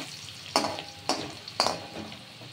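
Sliced bitter gourd fries in a pan, a soft steady sizzle punctuated by three evenly spaced scraping stirs, close and moderately loud.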